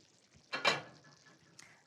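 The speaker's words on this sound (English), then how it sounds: "Give it a quick stir." Sausage tomato sauce stirred in a pan, with a short soft scrape and clatter of a utensil against the pan midway, faint quiet background around it and no talk.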